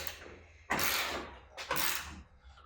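Bolts on the rear subframe of a BMW E30 are loosened, with two short, loud bursts of ratcheting wrench noise close by, separated by a brief pause and then fading.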